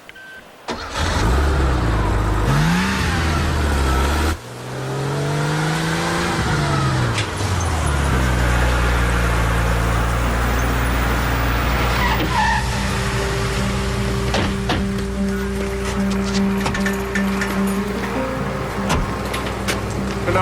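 A car engine roars loudly and steadily throughout, with tyres skidding and squealing as the vehicle slides, the pitch of the motor rising and falling through the run.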